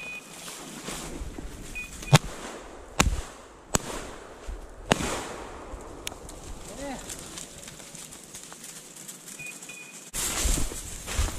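Sharp shotgun blasts on a Southern Illinois grouse hunt, several loud cracks spaced irregularly across outdoor ambience, with people talking briefly between shots.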